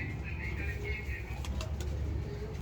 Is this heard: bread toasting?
no